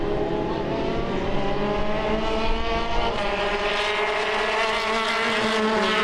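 Formula 1600 single-seater race cars at the MRF FF1600 Championship in Chennai roar through the esses, a steady, loud, high-revving engine drone with shifting harmonics that holds for several seconds without any voices.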